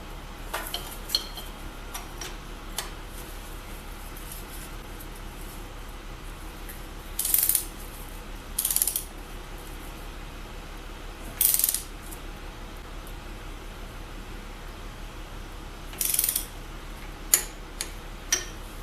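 A torque wrench clicks and ratchets while tightening head gasket bolts in sequence, with scattered sharp clicks and several short bursts of ratcheting over a quiet workshop background.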